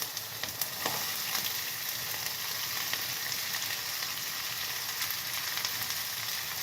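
Okra fries in hot oil with mustard seeds and green chilies, giving a continuous bright sizzle with scattered small pops and crackles, close and steady throughout with no voices.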